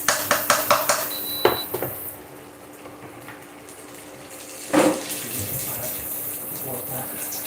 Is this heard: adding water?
yes